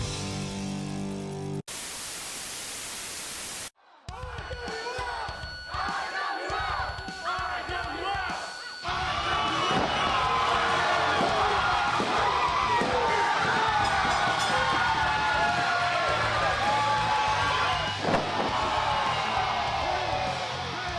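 Energetic wrestling crowd at an independent IWL event roaring, cheering and chanting loudly and continuously, close and dense, with brief bursts of noise and music at the start.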